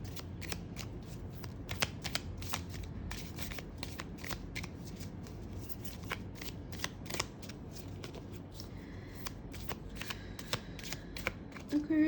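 Tarot cards being shuffled by hand, a run of crisp riffling flutters and soft slaps repeating close up over several seconds, with quiet pauses between bursts.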